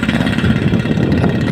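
Motorcycle exhaust roaring steadily at close range on a road trip from West Sumatra toward Takengon in Aceh, a continuous loud low engine drone throughout with no talk.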